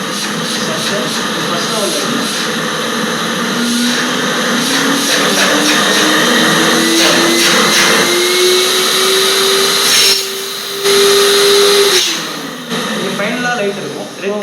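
A household vacuum cleaning unit with an 8-litre storage capacity runs with a steady, loud whirring drone and a slowly rising motor whine. The drone cuts out briefly and restarts, and a person talks over it.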